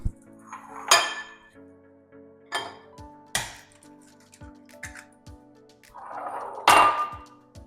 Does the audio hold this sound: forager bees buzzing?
no